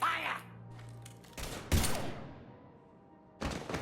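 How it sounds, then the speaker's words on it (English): Gunfire in the video game Mass Effect 3: a few sharp bursts of shots separated by pauses, with a brief tone and rumbling effects between them. "Now open fire!"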